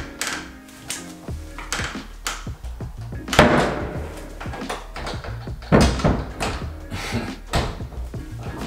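Someone handles a door that doesn't close right, with a string of knocks, thumps and rattling clicks of the handle and latch at irregular intervals, up close and fairly loud.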